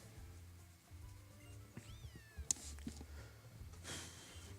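Two cats fighting in a cutscene-heavy video game give a wavering meow and a sharp yowl midway, followed by hissing bursts, all over a low steady music bed with no talk.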